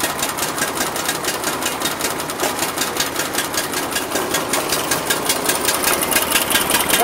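A Honda-powered Billy Goat F13 wheeled push blower, long unused, runs steadily up close with a loud, even mechanical drone and rapid buzzing pulses that grow slightly louder toward the end.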